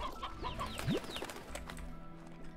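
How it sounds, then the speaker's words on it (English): Chicks in the video game Slime Rancher give several soft clucks and peeps, along with a short upward chirp, over a steady ambient game bed with no talk. "What are these baby chickens?"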